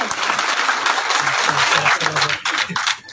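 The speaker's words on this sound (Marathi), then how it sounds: "त्याच्यासाठी सर्वांनी टाळ्या वाजून स्वागत केलं पाहिजे" A seated audience at a community meeting in Pune claps in sustained applause, dense and loud, thinning and turning ragged toward the end as a few voices rise beneath it.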